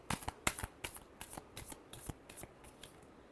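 Tarot cards being riffled and shuffled by hand, a series of crisp papery flutters and snaps in an uneven rhythm, close and fairly quiet with no talking.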